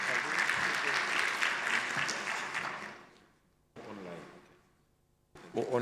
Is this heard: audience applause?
yes